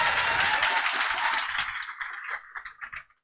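An audience applauds to welcome a guest at a class event: dense, loud clapping that thins into scattered individual claps and dies out after about three seconds.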